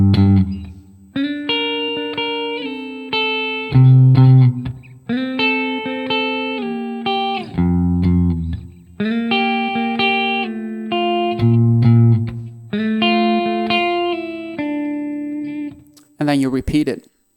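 Electric guitar playing a phrase, clean melodic notes and chords in several repeated groups with brief gaps, close and clear, with a short burst of other sound at the end.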